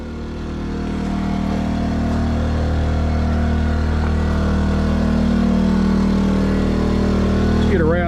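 A generator on a 2008 Grand Junction 31TKS fifth wheel RV drones loudly and steadily close by, building in the first second and holding an even hum with a brief chirp near the end.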